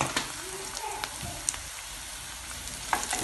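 Onions fry in a pan while being stirred for ragi semiya upma, giving a soft, steady sizzle with occasional light scrapes and taps of the spoon close by.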